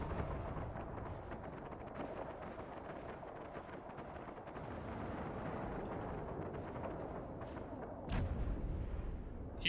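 Missiles launching and exploding in the space game Star Citizen, a dense, continuous roar of rumbling blasts and booms with a louder burst near the end, no talk.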